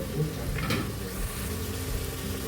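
Finely chopped tomato pieces frying in oil in a pan for chicken biryani, giving a steady, close sizzle with faint stirring.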